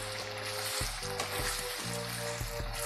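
Chicken sizzles steadily in a hot pan, a continuous crackling fry with occasional soft knocks, and no voices.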